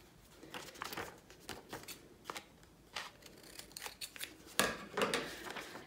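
Scissors snip through a paper sewing pattern in quick, irregular close cuts, each crisp chop separated by short pauses, with paper rustling between them.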